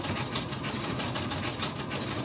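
Overlock sewing machine stitching quilting fabric, a fast, even mechanical whir with rapid rhythmic pulsing, close and steady, running alone without talk.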